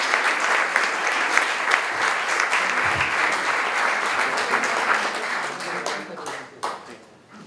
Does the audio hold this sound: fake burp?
no